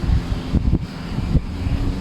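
Steady rushing wind buffets the microphone during a motorcycle road trip through hot, sunny countryside in Thailand, a continuous low roar with a couple of brief dips.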